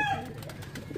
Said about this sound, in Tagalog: ito mga kalapati natin